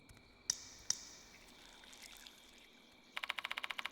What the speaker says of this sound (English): Why do I hear the sound of dripping water?